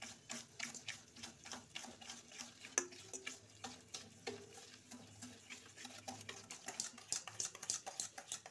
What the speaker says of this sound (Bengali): এবার এই চিনি আর সাদা তেলটাকে খুব ভালোভাবে আমি মিশিয়ে নেব, মানে ফেটিয়ে ফেটিয়ে এটাকে সাদা করে ফেলবো